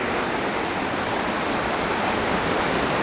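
Njandirukki waterfall at Velliyamattom pours in a steady, dense, full-band roar, close and loud throughout with no voices.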